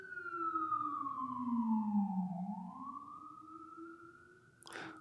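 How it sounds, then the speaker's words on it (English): Passing emergency vehicle siren, likely an ambulance, wailing with a slow falling then rising pitch, fairly faint and distant, with a brief bump of noise at the end. "We're gonna let those sirens go by."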